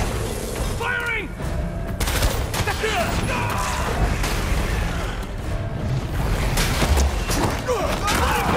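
Rapid gunfire bursts in the Marvel's Spider-Man 2 video game crackle under shouting voices and a dense wash of combat effects throughout.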